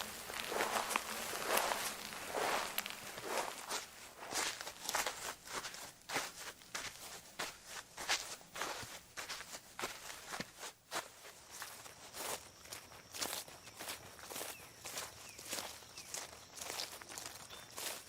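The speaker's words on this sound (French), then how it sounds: "les bruits de pas, c'est quelque chose de très facile à faire" Footsteps walk along at a steady pace, a series of soft, close crunching steps with slight rustle between them, and no voices.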